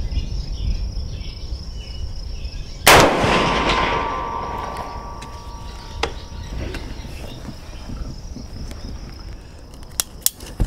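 A single 30-30 rifle shot fired at a target, one loud close crack with a ringing tail, set against a steady outdoor backdrop of chirping insects and a few faint clicks.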